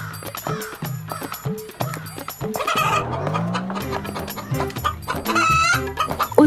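A rooster clucks repeatedly in short rhythmic bursts, close and loud, with some background music.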